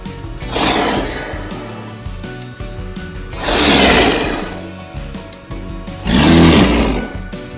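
Three loud, drawn-out leopard roars, evenly spaced and rising and fading in turn, layered over a light backing tune.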